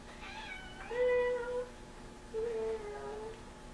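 A cat meows twice, each a clear drawn-out call with a pause between, close and moderately loud indoors over quiet room tone.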